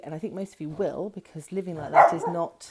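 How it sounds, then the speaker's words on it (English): A pet dog barks indoors, giving a few short, sharp yelps that mix with someone speaking continuously close to the microphone. "that's my dog about to bark because I can hear somebody"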